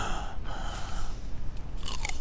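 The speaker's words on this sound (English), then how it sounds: "You were munching." Someone munches close up, a steady wet crunching and chewing that continues with no talk.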